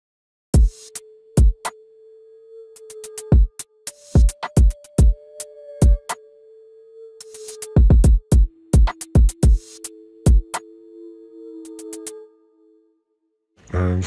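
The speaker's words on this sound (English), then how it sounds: "So all through the drum sound something like this." A full drum pattern from an ambient RnB beat made in FL Studio: kicks, rim shots and hi-hats in a steady, syncopated groove over a sustained tonal pad, with no speech.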